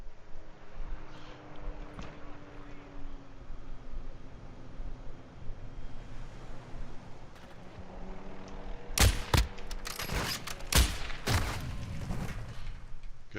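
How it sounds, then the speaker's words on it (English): Heavy .50 cal gunfire in Black Ops zombies on PC, a cluster of loud, sharp booming shots bursting out after a stretch of low hissing background, fired in several close bursts near the end. "I'm shooting this 50 cal"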